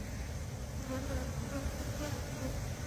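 A dense, continuous hum of many honey bees fills the air around an open hive, steady and close with no other sounds.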